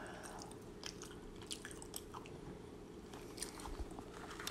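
Close-up chewing and crunching of McDonald's mini fries with ketchup, soft repeated bites and mouth sounds continuing steadily without talk.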